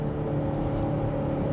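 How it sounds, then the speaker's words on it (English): The engine of a 2023 BMW X5 xDrive40i pulls uphill at about 60 mph, a steady low drone with a sustained tonal hum, heard from inside the cabin at constant loudness. "I like that feedback of the engine. You can hear, of course, probably speaker enhanced somewhat, but it also has a little bit of the rev matching here."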